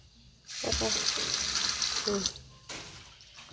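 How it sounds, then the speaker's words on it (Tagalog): A kitchen faucet in a house in the Philippines runs water into a sink. The flow is a close, steady hiss for about two seconds, then stops, and a brief trickle follows. "Tapos meron na din kaming ano dito. Faucet. Sa kusina."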